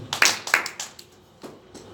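A small audience claps in short, sparse bursts at a seminar of a national coalition of persons with disabilities, a couple of quick clap clusters near the start and fainter scattered claps after, close and brief.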